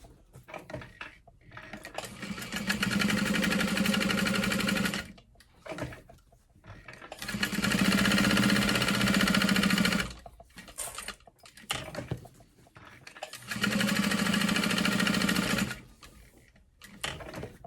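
A sewing machine top-stitches along the edges of a mini fabric clutch wallet, running in three long continuous bursts separated by short pauses, steady and close with no talking.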